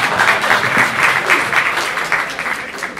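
An audience at an election panel during a liberty conference breaks into loud, dense applause, clapping steadily for about three seconds before easing slightly.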